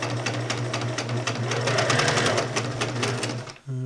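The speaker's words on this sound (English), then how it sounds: "Turn it on and take a little scrap piece of cloth. We'll give her a little a test sew here." A Singer 6268 sewing machine stitches through a scrap of cloth in a fast, steady mechanical whir with rapid needle clatter, running loud and close, then stopping abruptly near the end.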